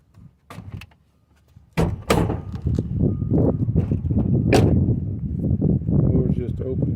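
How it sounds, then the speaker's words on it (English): Doors of a 1993 GMT400 Silverado C Series pickup opening and closing, with several thumps and latch clicks close by, followed by ongoing rustling and handling noise. "Doors just open and close, just"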